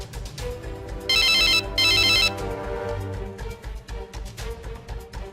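A telephone rings for an incoming call: two loud bursts of bright electronic trilling followed by a steady, repeating melodic ringtone pattern, close and clear with no talk.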